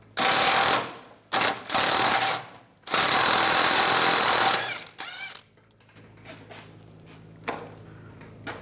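A 21mm socket on a power tool spins off the rear shock nut of a Cadillac Escalade in several loud, close, buzzing bursts, followed by quieter metallic clicks and handling.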